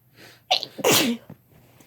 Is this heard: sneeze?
yes